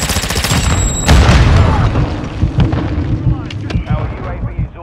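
A grenade goes off in Call of Duty Modern Warfare 2 (2022) team deathmatch, a loud close blast with a rumbling tail, over distant gunfire and voice chatter.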